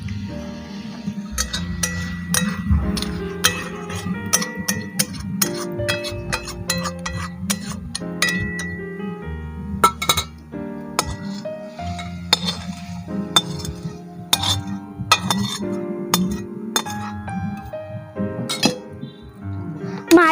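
Metal pots and utensils clink and clatter repeatedly as a pan of cooked meat for Indian-style chow mein is taken off the stove, sharp close knocks at an irregular pace while someone talks throughout.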